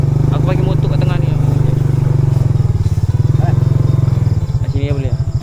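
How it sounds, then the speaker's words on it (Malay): A motorcycle engine idles with a steady, loud, close rumble on a jungle camping trip through thick brush, while people talk over it. "Aku bagi motor kat tengah ni."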